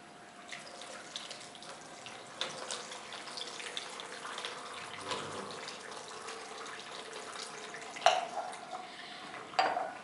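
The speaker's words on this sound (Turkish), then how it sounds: "Biz burada aynı anda aynı miktarda su dökeceğiz" Water poured into a pipe packed with gravel pebbles as a model of a conductive wire, giving a steady faint trickling wash with a couple of brief sharper splashes or knocks near the end.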